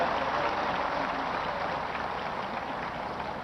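A standing crowd at a public rally applauds to welcome the chief minister, a continuous broad roar of many hands clapping that stays steady and fills the space, with no voices audible above it.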